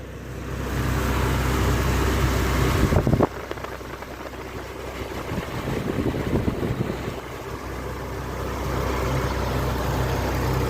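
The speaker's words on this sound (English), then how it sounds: "we'll listen to the engine run one more time." A 2006 GMC Envoy with over 230,000 miles idles close by in a steady low rumble, briefly interrupted by a bump before the even idle continues.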